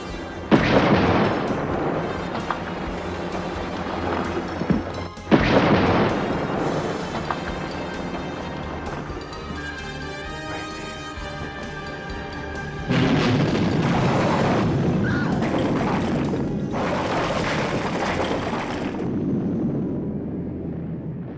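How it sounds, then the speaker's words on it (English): A film special-effect time bomb goes off inside a mine, sending loud, heavy booming blasts with a sharp burst near five seconds and a renewed rumbling roar that carries to the end. "the time bomb explodes and creates a very spectacular explosion"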